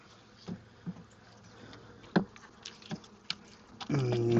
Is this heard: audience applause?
no